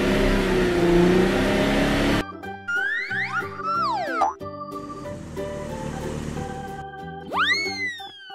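Purple toy car rolling along with cartoonish rising and falling zooms and boing-like slides, short bursts separated by brief gaps, close and fairly quiet, no talking.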